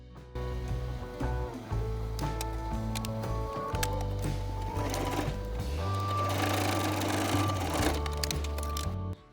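Sewing machine top stitching a fabric face mask, a close, loud, steady rhythmic clatter that runs in sustained bursts with brief pauses and slight speed changes before stopping at the end.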